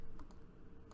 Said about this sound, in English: So we are going to type